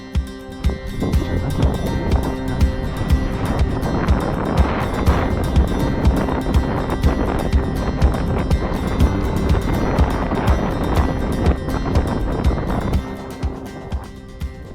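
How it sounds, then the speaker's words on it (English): Strong wind gusting outdoors at a ranch where a cowboy ropes calves, a loud, steady broadband roar buffeting the microphone throughout with no speech. "with the wind blowing like this, you never know what they're going to do"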